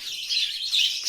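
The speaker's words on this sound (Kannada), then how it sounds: "ಹಕ್ಕಿ ಮಾತ್ರ ತುಂಬ ಇದೆ." Many small birds in a bird shop chirp and tweet together, a busy, high twittering held steady for about a second with no talking.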